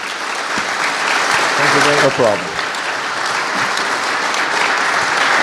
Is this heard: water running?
no